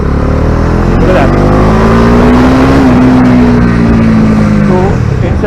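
A Bajaj Dominar 250 motorcycle engine revs up loudly and close, its pitch rising through the gears, with strong wind rumble over the steady throaty drone.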